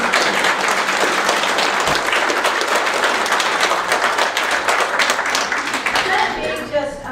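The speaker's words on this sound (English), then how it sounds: "And just let them see you and love on you and give you a round of applause." An audience gives a guest speaker a dense, steady round of applause that carries on throughout before starting to thin out at the very end.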